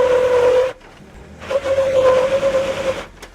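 Jeep Wrangler JK on 33- or 37-inch tyres rock crawling, its engine droning with a steady tonal hum that cuts out briefly and then returns, revving unevenly as the Jeep works over rocks.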